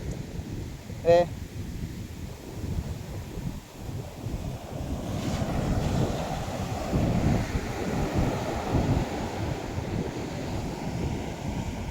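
Ocean waves roll onto a beach under heavy wind buffeting the microphone, a broad continuous rushing surge that swells and recedes, with a brief voice near the start.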